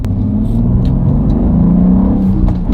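A BMW G87 M2 pulls hard from a start in third gear, its engine a loud, steady, close-up drone that climbs gently in pitch over a few seconds.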